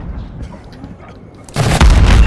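A rocket launcher explosion in Call of Duty Modern Warfare's Ground War mode, a sudden loud boom that hits after a quieter stretch of distant battle noise and roars on to the end.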